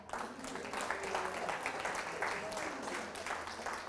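A crowd applauds steadily for several seconds, a dense wash of clapping that stays level throughout, with faint voices mixed into the noise.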